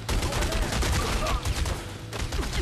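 Shotgun blasts from The Godfather 2 video game crack in dense bursts amid gunfire clutter, loud and close, with a brief voice murmuring underneath.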